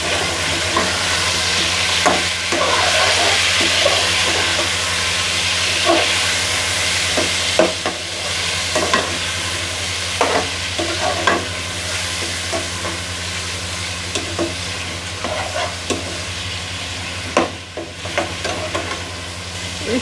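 Chicken pieces frying with sautéed onions in a pan, a steady loud sizzle throughout with scattered stirring clinks and scrapes.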